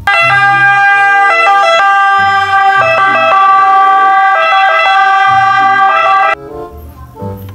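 An electronic toy siren wails loudly in a repeating two-tone pattern, then cuts off abruptly, leaving faint clatter.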